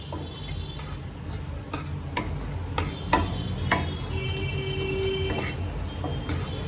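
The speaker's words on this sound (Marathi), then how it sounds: "आता ह्याला पण मी मीडियम फ्लेमवर चांगलं भाजून घेते तुपामध्ये।" Wheat flour with a little semolina roasting in ghee over a medium flame, stirred with a utensil that clicks and scrapes against the pan in a steady, close rhythm under a soft background hiss.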